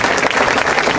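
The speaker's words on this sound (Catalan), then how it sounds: "Jo voldria que li dediquessin vostès un fort aplaudiment a José Domingo Doria perquè se ho mereix." Dense, strong applause fills a festival hall as a crowd claps warmly for José Domingo Doria, a continuous loud wash of hands with no voices.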